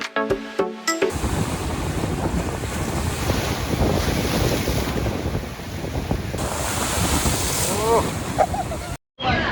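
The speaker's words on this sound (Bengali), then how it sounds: "তাজপুর দেখে এখন আমরা এসেছি শঙ্করপুর বিচে" Sea waves and strong wind at Shankarpur beach, a continuous rushing wash with heavy gusts buffeting the microphone and brief faint voices near the end.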